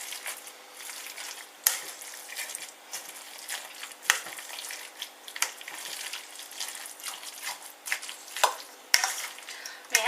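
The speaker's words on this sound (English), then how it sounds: "So I'm just going to mix that in thoroughly." A spoon stirs mayonnaise through a rice salad with spring onion, giving soft, irregular wet squelching and scraping that goes on steadily, with occasional sharper clicks of the spoon against the bowl.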